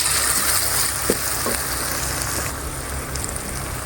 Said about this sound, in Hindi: मसाले को भूनेंगे 3 से 4 मिनट के लिए बिल्कुल लो फ्लेम पे।